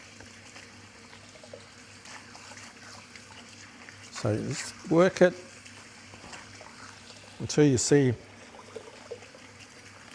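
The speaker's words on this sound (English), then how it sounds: "So we're now washing all that glugginess out of the rice, as well as cooling it down." A constant soft trickle of running water over rice being rinsed in a kitchen to wash off starch and cool it, with a person talking over it in two short bursts.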